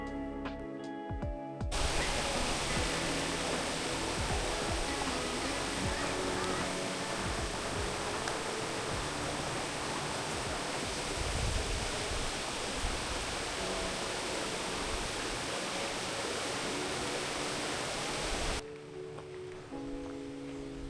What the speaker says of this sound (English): the roar of the Castor River